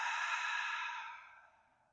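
A long, deep exhale pushed out through the mouth during a morning yoga breathing exercise, a breathy airy rush that starts full and slowly fades over about two seconds, heard alone and close.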